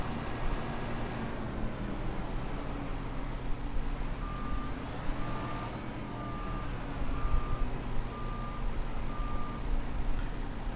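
A backup alarm on farm machinery beeps in a steady, evenly spaced series of tones over a low engine rumble, moderately close.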